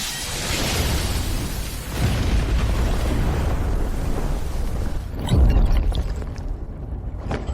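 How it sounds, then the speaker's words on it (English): A roaring explosion in an animated fantasy fight, a dense continuous blast that swells, with a heavy low thump midway, loud and sustained with no speech. "Explode."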